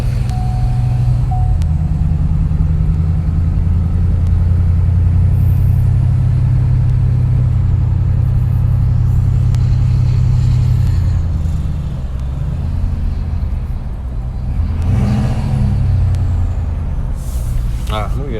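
A 2020 Ford F-250 King Ranch with a deleted 6.7 Powerstroke diesel rumbles under acceleration from inside the cab, a loud, deep, steady drone with a brief dip, while people talk over it.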